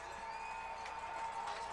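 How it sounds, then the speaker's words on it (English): A crowd at a high school football championship game, a 3AA East Division final, makes a faint, steady distant roar of cheering under a thin tonal hum. "this is as loud as we've heard this crowd tonight"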